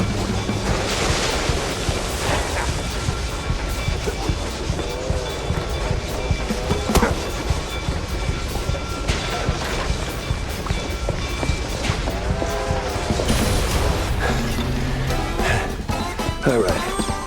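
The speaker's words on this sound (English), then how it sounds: "Just don't follow the damn train." A passing train in the 1930s-style first-person shooter MOUSE: P.I. For Hire, a steady rumbling roar with clattering and crashing layered through it, loud and continuous, with game sounds on top.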